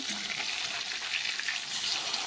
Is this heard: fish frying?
yes